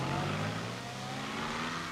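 A small car drives along with a faint, steady engine drone and a thin whining tone, distant and even throughout, with no talk heard.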